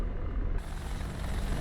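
AH-64D Apache helicopter in DCS World throttling up its engine, a loud broadband turbine roar and rumble that swells just after the start and holds steady to the end.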